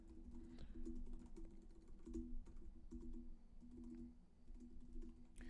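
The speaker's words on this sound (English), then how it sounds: "I'm about to type it in right now." Fingers tap quickly on a computer keyboard in irregular bursts of keystrokes, fairly close but quiet, with short pauses between runs and no one speaking.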